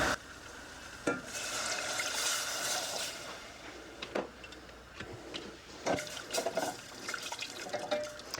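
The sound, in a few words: milk slowly poured into a cooking pot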